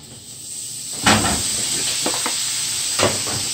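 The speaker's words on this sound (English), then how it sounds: "Oh yeah, and that shit sizzling." Shrimp fried rice sizzling in a hot pan, a steady bright hiss with a few louder clatters and stirring knocks.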